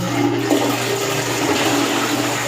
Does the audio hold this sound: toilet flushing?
yes